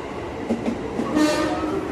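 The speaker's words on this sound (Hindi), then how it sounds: "कुछ ऐसी होती है यहाँ की ट्रेन," A commuter train passes at a Jakarta station, a close, loud rolling rumble with clattering wheels and a brief rising screech, busy platform noise around it.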